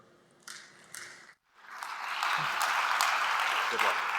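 Audience applause at a tech conference talk on open-source security, swelling into a broad steady wash of many hands clapping in a hall after brief sparse claps and a short pause.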